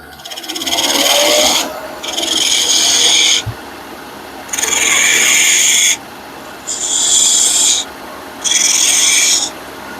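Hand file or rasp tapering down a workpiece in long, loud, close strokes: six rasping passes separated by brief pauses, with the strokes shortening toward the end.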